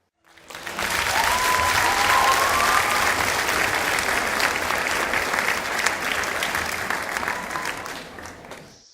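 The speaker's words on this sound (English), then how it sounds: "You deserve a round of applause." A crowd applauds, a loud, dense burst of clapping that swells in quickly, holds steady for several seconds with a faint whistle early on, then tapers off toward the end.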